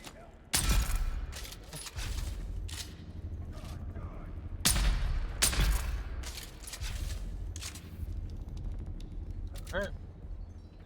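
Gunfire in the video game Dune: Awakening sounds as several sharp, loud bursts and scattered shots spread through the stretch, over ongoing game noise while someone talks.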